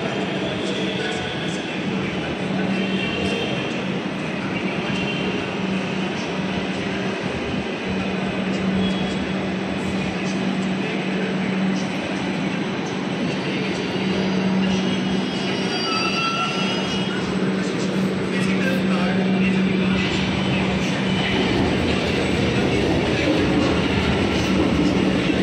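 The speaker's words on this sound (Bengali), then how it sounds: "ট্রেন আসছে, এবার ট্রেনে উঠবো।" A metro train arrives at an underground station beneath the Ganges river, a long rising rumble with rattling wheels and squealing, loud and continuous over the platform, with faint voices in the background.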